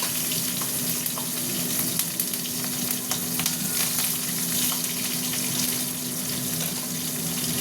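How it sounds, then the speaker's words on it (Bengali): Green chilies fry in hot oil with a dry red chili and sugar, a steady, fairly loud crackling sizzle that runs throughout with small pops and scrapes, no voices. "কাঁচা লঙ্কাটা একটু ভাজা ভাজা হোক, অনেকটা ভাজা ভাজা।"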